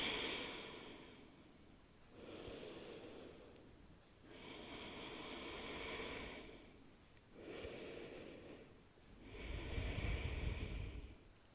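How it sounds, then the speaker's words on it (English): Slow, deep belly breathing during a yoga session, with about five long, soft inhale and exhale cycles heard close and alone, the last breath fuller and heavier. "take a few conscious deep belly breaths here"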